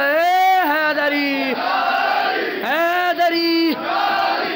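A large crowd chants the Nara-e-Haidari slogan in loud unison, with two long rising cries that sweep up and hold, each followed by a quieter communal murmur.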